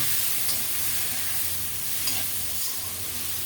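Green chillies, turmeric and bay leaves fry in a pan with a steady, moderate sizzle, broken by a few soft stirring scrapes; no voices.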